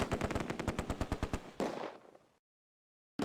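Rapid machine-gun bursts fire from a World War II battle at Oosterbeek near Arnhem in the Close Combat: A Bridge Too Far strategy game, a loud regular volley of shots, then a brief trailing blast before silence and a sudden return.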